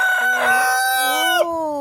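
A loud fighting rooster crow rings out close by on a farm, a long drawn-out call that rises and then falls away, with no other sounds around it.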